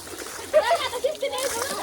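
Dirty gutter water thrown and splashing during a Rangpanchami celebration, a brief close splatter with people talking and shouting over it.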